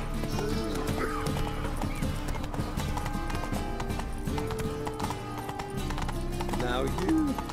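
In The Witcher 3 video game, a horse gallops with rhythmic hoofbeats and lets out neighs and whinnies, with steady clip-clop under a man's speech.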